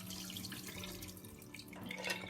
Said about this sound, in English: first we need to use kind of cold tap water to wash it, to wash the black Woodear mushroom